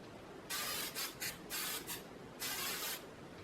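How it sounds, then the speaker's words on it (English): Hairspray hisses onto freshly curled hair in several short aerosol bursts, some quick and clipped, the last one longer, close and fairly quiet. "I am going to spray it, just get it really set"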